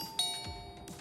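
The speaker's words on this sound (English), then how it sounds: "At that moment, the sound of the doorbell echoed through the house." A house doorbell chimes with bright ringing tones over a quiet room in a manga dub, fairly soft and ringing out briefly with no voices.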